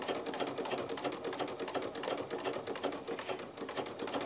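A sewing machine fitted with a ruffler foot ruffles fabric, a loud, fast, steady mechanical clatter of needle strokes heard close up without any talking.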